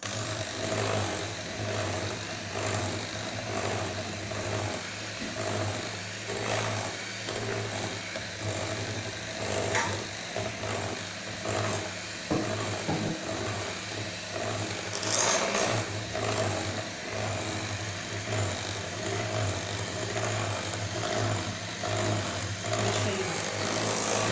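Electric mixer beating madeleine batter in a home kitchen, a steady motor whir that runs without break for the whole stretch, fairly loud and close, with no talking over it.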